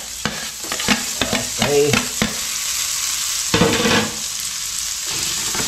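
Onions hit a hot pan and sizzle steadily, with clattering of a spoon stirring them in bursts; a voice speaks briefly once.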